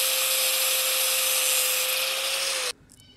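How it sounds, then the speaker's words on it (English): A power tool cuts through a metal bracket: a loud, steady, high grinding whine with a constant tone that runs for nearly three seconds, then stops abruptly, leaving a quiet tail. "I'm gonna cut this right down the middle"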